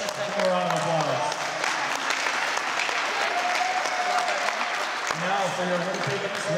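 Sustained applause from an audience at a youth hockey tournament medal ceremony in Rochester, Minnesota, honouring the runner-up team; steady loud clapping throughout, with a voice speaking faintly over it.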